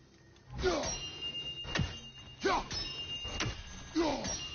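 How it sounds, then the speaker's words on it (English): Wind chimes tinkle in the game God of War Ragnarok, bright metallic rings arriving in several separate clusters over a quiet ambient backdrop. "Do you just like hearing the sound of the chimes?"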